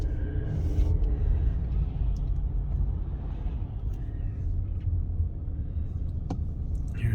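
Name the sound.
cars driving over a railroad crossing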